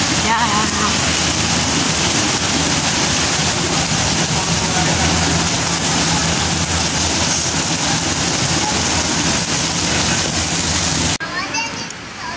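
Continuous roar of rain falling heavily at Tai Po Market, Hong Kong, for several seconds, then cutting off abruptly near the end.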